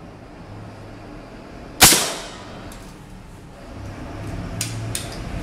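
A CO2 air gun firing a Matador lead pellet gives one sharp, loud crack with a short decay. Quiet background hiss fills the rest of the clip.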